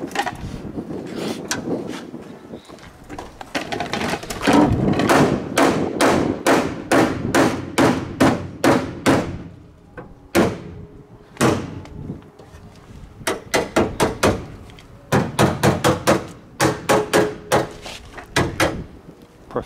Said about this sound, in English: Get your hammers out.